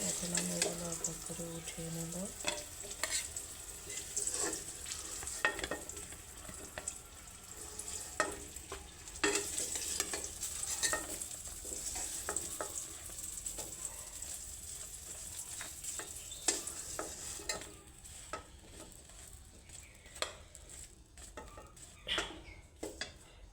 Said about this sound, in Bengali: আমার বেগুন ভাজিটা প্রায় হয়ে এসেছে